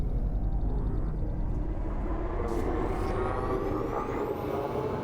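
Video game spaceship engine throttling up: a steady, loud low rumble and roar that holds continuously and swells slightly as it builds, with no talk.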